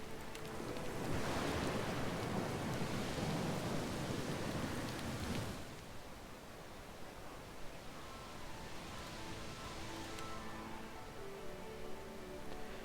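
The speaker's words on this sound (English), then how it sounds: "Storm." A rainstorm with thunder in the fantasy role-playing game Pillars of Eternity 2: Deadfire, a steady broadband wash of rain that swells loudly with a low rumble for the first few seconds, then settles into softer continuous rainfall.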